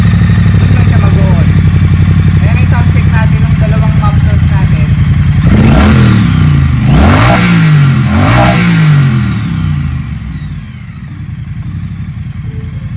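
A Triumph Bonneville Street Twin motorcycle engine idles with a steady low thrum, then revs hard three times in quick rising-and-falling surges, loud and close, before settling back to a quieter idle.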